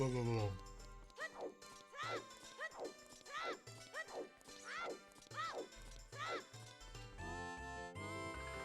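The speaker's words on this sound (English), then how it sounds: "I still love that sound effect for pulling the Master Sword." The Master Sword pulling sound effect from the video game Ocarina of Time: a series of repeated swooping, warbling tones rises and falls over layered game music, loud and continuous.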